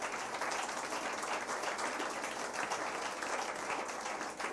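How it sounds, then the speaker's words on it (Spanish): A church congregation applauds at a memorial service for the death of Jesus, with dense sustained clapping from many hands filling the room, fairly distant and steady, and no clear speech. "Dé un aplauso al Señor."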